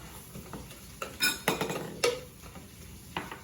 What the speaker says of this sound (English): And we're going to mix that in